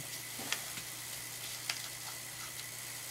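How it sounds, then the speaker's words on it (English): Steady, close hissing sizzle with a low electrical hum underneath and a few faint crackles and ticks, from an antique permanent wave machine perming hair. "I don't feel it, but I hear it sizzling."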